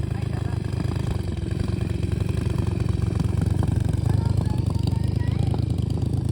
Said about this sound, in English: Here comes a bike coming down the hill.